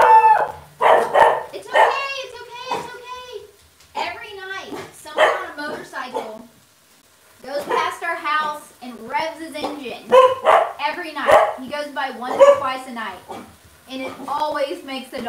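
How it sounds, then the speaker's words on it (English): Dogs bark in a home kitchen, loud close bursts in several clusters with short yips between and a few brief pauses, the barking sharp and nearly continuous. "Dogs bark. Always."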